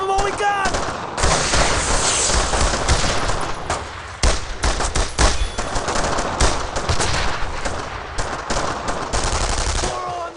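Sustained machine gun bursts and scattered rifle shots crackle through a World War II battle in the game Brothers in Arms: Road to Hill 30, loud and dense, with shouted voices amid the gunfire.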